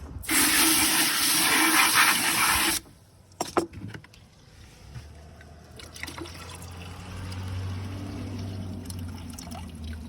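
Water poured into a stucco mix: a loud, steady gushing pour for a few seconds that stops abruptly, followed by a few knocks and a quieter low rumble.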